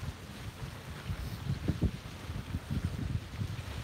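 Gusty wind on a beach buffets the microphone in uneven low rumbles, rising and falling in bursts against a faint, steady background hiss.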